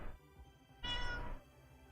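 A pet cat named Bobby gives a single short, fairly faint meow from under a desk in a quiet room, a lone mid-length call with low background hum around it.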